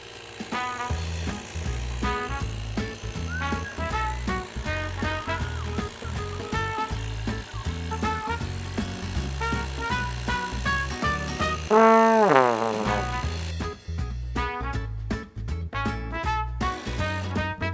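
A cordless inflator pumps up a large trail bicycle tire with a fast, regular mechanical chugging that keeps a steady rhythm, close and loud, rising in pitch partway through before the rhythm shifts near the end.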